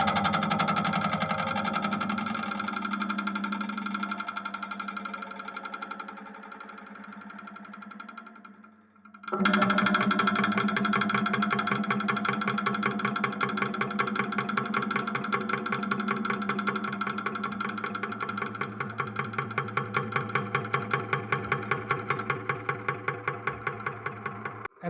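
Live-looped outro passage run through a manually modulated Roland RE501 tape echo, a dense sustained texture that drops out briefly around nine seconds, then returns louder with a steady pulsing, wobbling repetition to the end.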